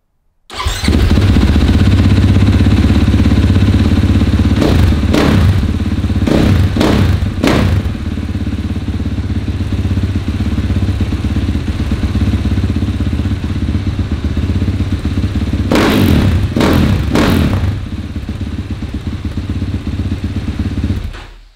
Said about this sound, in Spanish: lo que falta es la prueba de sonido de moto nueva